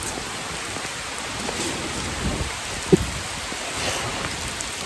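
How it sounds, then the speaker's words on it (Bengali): Heavy rain pours during a Kalbaishakhi storm among mango trees, a loud unbroken wash of rain on leaves and ground, with one brief sharp knock partway through and no speech. "কাল বৈশাখী ঝড় হচ্ছে, প্রচুর পরিমাণে বৃষ্টি"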